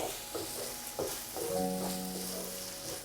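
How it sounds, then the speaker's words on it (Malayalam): Poha mixed with milk and jaggery is stirred in a pan, giving a soft sizzling hiss with scraping strokes of the spoon at a steady rhythm, close and continuous with no talk. "ഇനി നമുക്ക് ഇതെല്ലാം കൂടി വീണ്ടും ഒന്ന് നന്നായിട്ടൊന്ന് മിക്സ് ചെയ്തെടുക്കണം."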